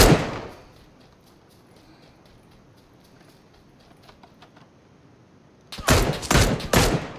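Burst of gunfire in PUBG: a sharp opening report trails into quiet, then a rapid cluster of loud, closely spaced shots erupts near the end.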